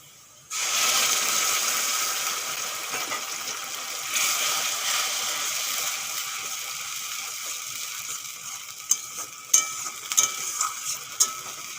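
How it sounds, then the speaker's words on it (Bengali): Ginger, garlic and tomato paste frying with onions and curry leaves in a pan for kolai dal bora, a loud steady sizzle that starts abruptly and continues throughout, with a few sharp stirring scrapes near the end. "পেঁয়াজগুলো ভালো করে ভেজে নিয়েছি এখন দিয়ে দেবো আদা রসুন টমেটার পেস্ট"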